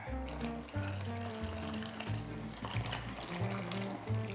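Egg-lemon terbiye sauce poured into a steaming pot of kelle paça soup, a steady liquid pour and splash running for several seconds close by, without speech.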